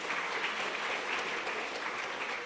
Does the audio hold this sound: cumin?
no